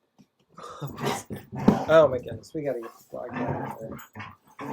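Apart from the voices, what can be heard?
dogs playing in the background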